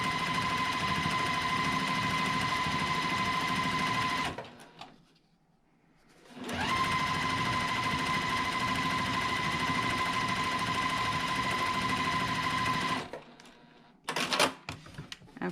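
A sewing machine stitches a quilt block in two long, steady runs of fast, even whirring with a brief pause between them, then stops and ends with a few short clicks and bursts.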